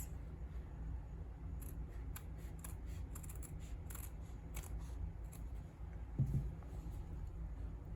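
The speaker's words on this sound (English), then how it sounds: "I'm just going to use my scissors and just trim the folded end because I didn't cut it" Scissors trim across the folded end of a paper bag, a run of quick, faint snipping cuts over a quiet background, with one slightly louder rustle near the end.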